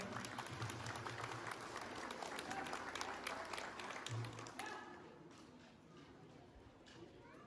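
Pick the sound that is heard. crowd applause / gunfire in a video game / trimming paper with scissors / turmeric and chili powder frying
crowd applause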